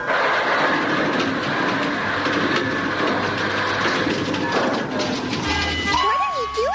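A cartoon train rumbles steadily along its tracks with a continuous clattering roar, loud and close, as a faint siren-like whistle rises near the end.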